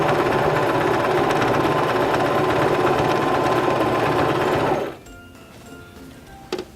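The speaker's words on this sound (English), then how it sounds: "So now we can press on our foot control and sew the left side of our buttonhole" A Singer Start 1304 sewing machine stitches a buttonhole in a fast, loud, steady mechanical whir for nearly five seconds, then stops abruptly, followed by a brief faint click.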